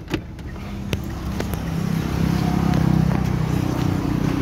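Car engine idling steadily while the car sits stopped on a hill, a low continuous hum that swells slightly partway through, with faint clicks and no talk.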